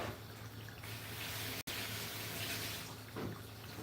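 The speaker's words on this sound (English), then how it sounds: "Let me wash my hands first." Hands are washed under a running tap, with a soft, steady rush of water and splashing that continues throughout apart from one very brief dropout partway through.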